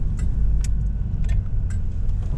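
A 2001 Pontiac Firebird's engine during a test drive, a low steady rumble from inside the car with a few light rattling jingles on top, no voices.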